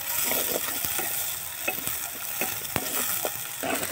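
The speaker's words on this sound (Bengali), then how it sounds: "পেঁয়াজটাকে লাল করে ভেজে নেব" Chopped onions frying in mustard oil in a kadai for an egg curry, a steady crackling sizzle with stirring clicks and scrapes, close and continuous.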